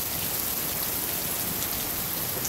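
Heavy rain falls in a steady, dense hiss of drops on surfaces outdoors on a farm, unbroken and fairly soft, with no talking over it.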